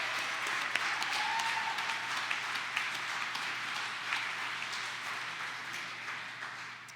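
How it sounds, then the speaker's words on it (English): Steady, dense applause from a conference audience at a substance use addiction summit honors standing volunteers, a continuous wash of many hands at moderate distance with no speech over it. "we'll give you a round of applause"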